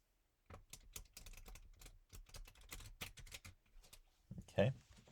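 Playing cards riffled and shuffled thoroughly, a close run of fast papery flutters and snaps in short bursts, ending in a louder flurry, with no talk over it.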